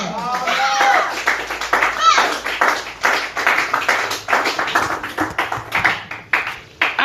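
A church congregation claps along, a quick steady patter of many hands throughout, mixed with voices and cheering over it.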